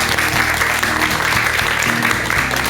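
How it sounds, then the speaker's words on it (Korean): Audience applause for a doctor after a talk on the Buddha's six-step teachings, a dense, steady clatter of many hands that stays loud throughout with a low musical tone underneath. "우리 박사님께 큰 박수 한번 좀 부탁드릴게요."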